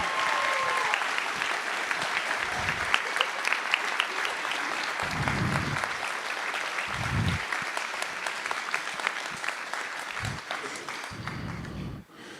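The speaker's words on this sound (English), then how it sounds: "Can we give these folks a round of applause?" Audience applauding at a high school marching band concert, a long burst of dense clapping with crisp individual claps and brief low crowd murmurs underneath, fading out abruptly at the end.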